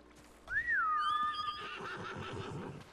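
A horse whinnies in Ghost of Tsushima, one rising and wavering neigh that starts sharply and trails off over a low game ambience.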